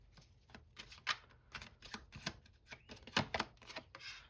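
Tarot cards are shuffled and drawn in a quiet room: a close, soft run of crisp flicks and papery snaps in an uneven rhythm, with a couple of brief rustling flurries.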